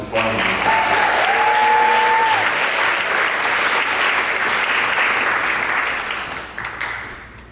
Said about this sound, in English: How about a round of applause for Mrs. McFarland?